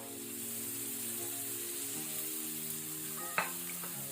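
Onion, garlic and ginger fry in a pan with a steady, close sizzle, marked by a single sharp clink partway through.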